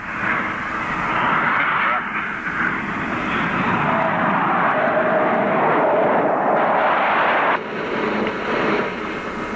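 F-4E Phantom jet with slatted wings flying in formation, a steady loud broadband engine roar with a slight dip near the end, continuous throughout.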